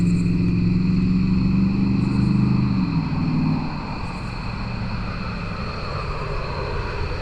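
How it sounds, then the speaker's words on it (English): A parked truck's engine runs steadily nearby at a beach campsite, a constant low rumble that eases slightly partway through, alone with no talk. "Nice truck. Sounds like it."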